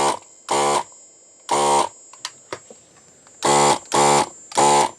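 A ZD-915 desoldering station beeps loudly in short, evenly spaced tones, one pair then a pause and three more, with faint clicks and a steady hum between.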